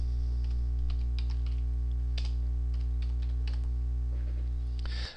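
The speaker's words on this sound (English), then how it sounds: "we type a variable name in the expression box" Quiet keystrokes tap out a variable name on a computer keyboard, with a short burst of separate clicks over a loud, steady electrical hum.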